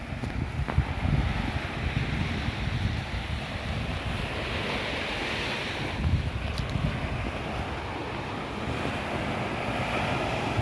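Sea waves wash steadily onto a beach in the evening, a continuous surf roar with wind buffeting the microphone, even loudness throughout and no voices.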